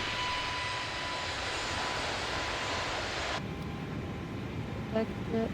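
A steady broadband airplane engine drone plays in a flight simulator game on a flight from Réunion to Mauritius. The hum is constant, then drops in level partway through, with a few faint beeps near the end.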